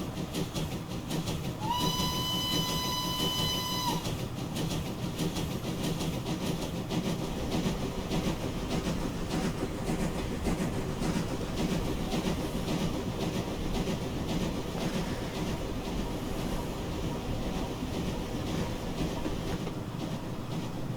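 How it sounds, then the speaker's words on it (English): A video game LSWR T3 4-4-0 steam locomotive in Train Simulator Classic rolls along with continuous rhythmic chuffing and clatter, and a shrill whistle sounds briefly near the start. "It's got some really nice chuff sounds."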